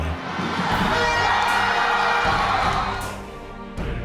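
A home crowd at a sports match erupts in loud cheering and shouting as their team goes up 2-1, swelling briefly then easing off before a fresh burst at the end.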